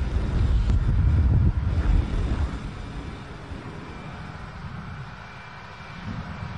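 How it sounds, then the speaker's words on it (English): The Space Shuttle Columbia's main gear touches down on landing, bringing a loud low rumble with wind roar that gradually eases into a softer, steady rolling drone. "Main gear touchdown."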